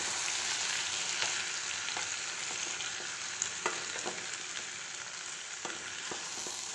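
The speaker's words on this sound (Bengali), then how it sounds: "দিয়ে আবার এই সবজির সাথে মিশিয়ে নিচ্ছি, মিশিয়ে কষাবো।" Mixed vegetables sautéing in a pan with a ground shukto spice paste of radhuni, ginger and white mustard, giving a loud continuous sizzle broken by repeated scraping stirs of a spoon against the pan, close up, with no speech.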